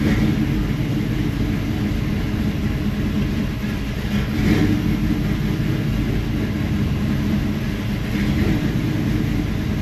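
A car engine on the test stand is blipped repeatedly while being tuned for a lean fuel mixture, giving a loud, steady rumble with brief revving swells throughout and no talk.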